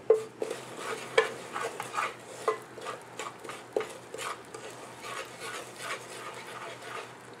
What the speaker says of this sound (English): just cook the Gunder and ghee for at least 3 to 4 minutes